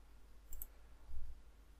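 A computer keyboard is used to type code: a couple of quick, faint clicks close together over a low, steady room hum, with no speech.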